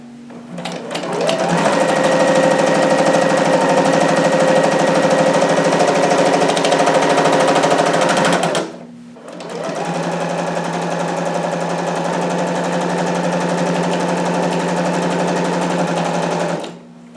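A sewing machine stitches jumpsuit fabric for a McCall's 7402 harem jumpsuit in two long, loud, steady runs of rapid mechanical whirring, separated by a short pause, up close.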